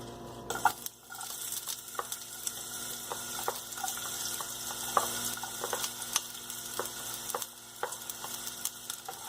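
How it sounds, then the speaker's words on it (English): Onion sizzling in a tablespoon of hot oil in a pan, a steady frying hiss with scattered clicks and scrapes of stirring for a vegetable puff filling, close and continuous with no talk. "Now the oil is heated and I am going to add onion."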